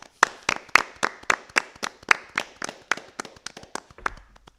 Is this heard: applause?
yes